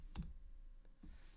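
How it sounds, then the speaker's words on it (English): Several quiet key clicks on a computer keyboard as a password is entered, a few brief taps spread across a short moment with no voices. "I will try typing the password correct this time."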